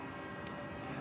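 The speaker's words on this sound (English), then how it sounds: "You can hear the horns right now." Truck horns blare at a trucker convoy protest, overlapping sustained tones merging into one continuous, fairly distant drone.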